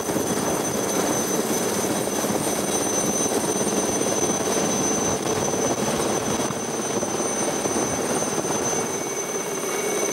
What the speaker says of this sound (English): The pilot lowers the helicopter as close to the ground as possible.